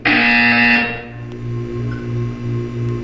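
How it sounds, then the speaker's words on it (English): A loud, harsh electronic buzzer from Portal 2 blares for about a second, then cuts off, leaving a low droning hum. "When you hear the buzzer, look up at the ceiling."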